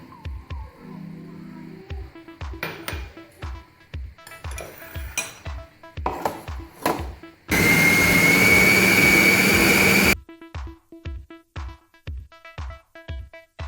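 An electric chopper runs in one loud continuous whirring burst for about three seconds, mincing meat with ginger-garlic paste for kofta, between many short clinking taps of utensils.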